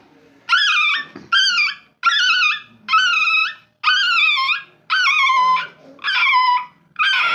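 A child imitates a puppy's whimpering cries in a run of eight high, wavering yelps, each about half a second long, evenly spaced and loud and close.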